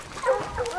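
A hunting dog on a wild boar trail in the hills gives short whining yips and a faint bark outdoors, thin and somewhat distant against open-air background.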